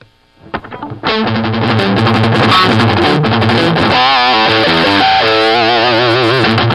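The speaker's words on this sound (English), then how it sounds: "So I'm going to turn up the guitar here and get some distortion out of it, and demonstrate the muting" Loud distorted electric guitar starts after a brief quiet lead-in, then plays sustained, dense palm-muted picked lines with shifting notes, running alone without any talk.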